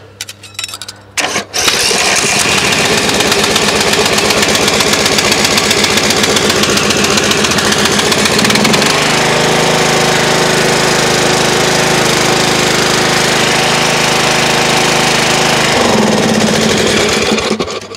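A Craftsman LT1000 lawn tractor engine, leaking oil, sputters to life after brief cranking, then runs loud and steady with a rapid chugging rhythm, its pitch shifting partway through before settling back near the end.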